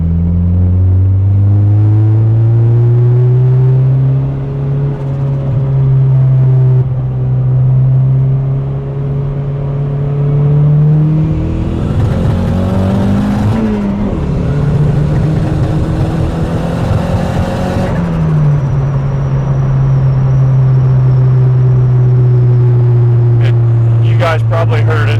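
Engine of a tuneless turbo Honda Civic, after an ECU reset, droning at a steady loud idle, then revving up and dropping out as it cuts out before settling back, with speech over it.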